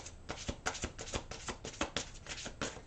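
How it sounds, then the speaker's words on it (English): Tarot cards being shuffled by hand in a run of quick, papery riffles and taps, close and steady with a few sharper snaps. "One more little shuffle here."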